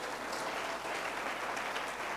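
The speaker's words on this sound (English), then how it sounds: "If you are clapping for Jesus, make it bigger." Church congregation clapping for Jesus, a dense, sustained burst of many hands at fairly even strength, heard from a distance with no voices over it.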